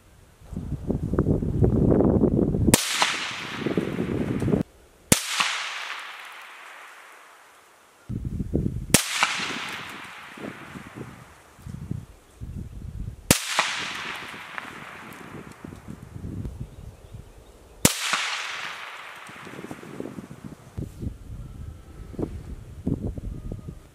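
An SMOS Arms GFY 15 rifle fires at a 200-yard outdoor range, five sharp, loud shots spaced a few seconds apart. Each crack decays into a long echo, with wind rumble and handling noise between shots.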